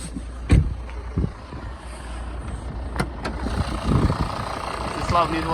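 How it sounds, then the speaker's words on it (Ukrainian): A Volvo XC60 D4 2.4-litre five-cylinder diesel idles with the hood open: a low, even engine rumble heard nearby, with a few clicks and knocks and someone talking over it. "Так, відкрию ще капот, відзніму роботу двигуна."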